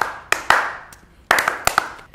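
Close hand claps in a quiet room, a couple of sharp single claps followed by a quick cluster of several more, loud and crisp with brief decays between them.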